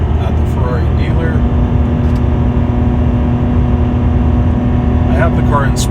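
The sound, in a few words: 2003 Ferrari 575M engine accelerating onto highway on-ramp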